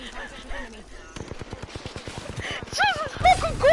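Rapid bursts of automatic gunfire in a first-person shooter, a fast rattling string of close shots with game sounds and rising tones behind, while people talk over it.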